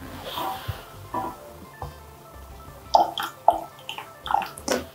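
Water splashes and trickles as an electrode holder is rinsed with deionized water in a lab during milk acidity measurement, with several short bursts of running water and drips, close and fairly quiet.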